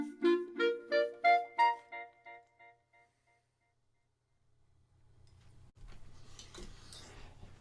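A clarinet line played through a quarter-note delay effect, its notes repeating in a fading rhythmic echo that trails off into quiet before a low hum and soft noise come in.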